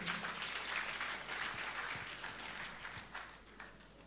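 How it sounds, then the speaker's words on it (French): Applause from an audience at an award ceremony, a steady patter of many hands clapping at a distance that thins slightly toward the end, with scattered louder claps. "Des applaudissements, s'il vous plaît."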